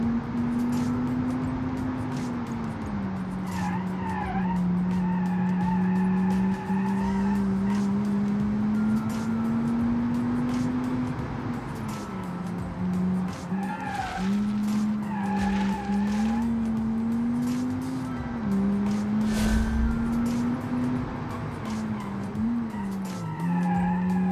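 In BeamNG.Drive, a car brakes and slides with a long, wavering tire squeal that holds almost unbroken over a droning engine, loud and near, with occasional brief bumps.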